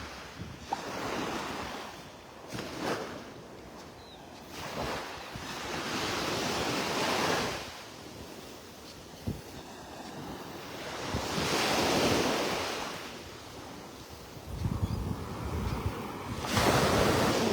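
Waves surge onto a quiet beach in North Naples, Florida, in slow, repeated swells, with gusty wind buffeting the microphone throughout and no voices.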